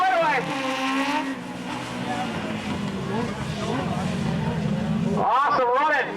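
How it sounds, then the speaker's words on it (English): Thunder Roadster race cars roar around a raceway track during a heat race, engines whining up and down with loud, close passes under continuous commentary. "Awesome running here in the heat race here for the Thunder Roadsters."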